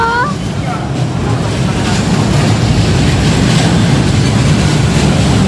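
A train rumbles loudly and steadily at Carriedo station in Manila, with a broad continuous roar and brief high squeals near the start, while a voice can be heard faintly underneath.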